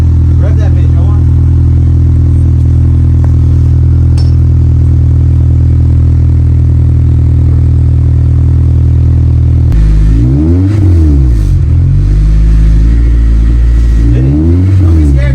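A vehicle engine fitted with a $400 aftermarket exhaust idles with a loud, deep rumble, then revs hard in repeated rising and falling bursts. The sound is close and dominant.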